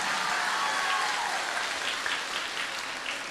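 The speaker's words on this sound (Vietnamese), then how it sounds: "Chúng ta cho thêm tràng pháo tay thiệt lớn nha." A live audience at a Vietnamese singing show claps in a dense, even burst of applause that fades slightly toward the end, with no talk over it.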